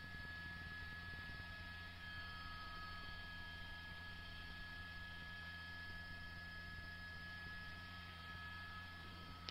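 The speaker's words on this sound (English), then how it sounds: "we've just got Huntington Beach police overhead in their chopper." A steady, faint drone of a Huntington Beach police helicopter hovering overhead, an unbroken engine hum with a thin whine on top and no voices.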